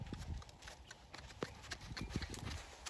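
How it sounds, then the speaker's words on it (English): A young horse trots under a rider, its hooves striking in a quick, even clip-clop rhythm close by, with steady ground noise and no talking. "I'm going to trot out to the right again"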